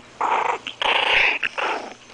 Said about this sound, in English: Can we get you to growl?